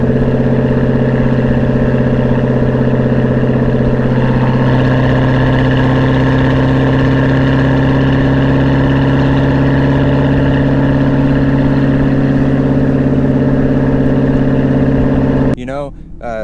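A 2023 Camaro ZL1 with a new exhaust ticks over at a steady, low idle, a smooth, even rumble close by that holds without change for about fifteen seconds before a short noise at the end.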